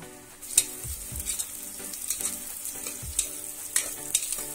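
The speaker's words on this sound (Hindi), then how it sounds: "प्याज गोल्डन रंग आए तक इसको हिला लेके जरा रखना।" Onions fry in a pan for a mutton bean and potato curry, a steady soft sizzle close by, broken by several sharp clinks and scrapes of a spoon stirring them.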